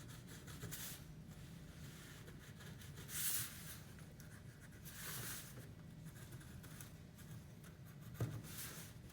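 A pencil draws a line across a grasscloth wallpaper template taped to a wall corner, soft scratchy strokes in a few short bursts, quiet and close, with no talking.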